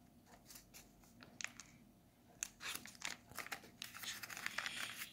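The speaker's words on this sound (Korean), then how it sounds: "이렇게 접어가지고 이렇게 접어야 될 것 같아요" Paper for an origami whale shark being folded and creased, giving soft, close crinkles and rustles in short bursts that grow denser near the end.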